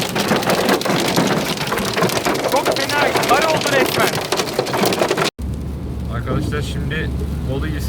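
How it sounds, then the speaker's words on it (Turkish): Hail pounds on a car roof in a dense, loud clatter, then drops to a softer drumming over a steady engine hum. "Şu an bayağı dolu yağıyor"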